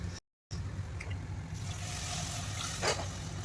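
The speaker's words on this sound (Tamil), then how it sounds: "ஆறு மடங்கு முந்நூறு கிராம் தண்ணி நான் ஊற்ற போகிறேன்" Water is poured into a pot of millet sambar rice, a faint trickling splash heard from nearby after a brief dropout, continuing softly to the end.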